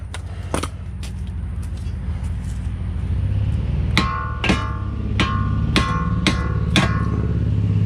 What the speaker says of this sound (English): Give me a big hammer right there, Kowalda.